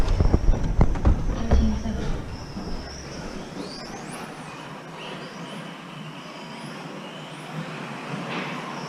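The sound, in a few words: Tamiya TT-02 RC car driving on track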